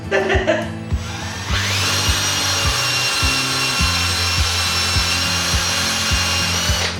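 A power drill whirs steadily for several seconds, biting into wood with a grinding, rubbing drone after a brief start-up burst, during work on a Jeep XJ.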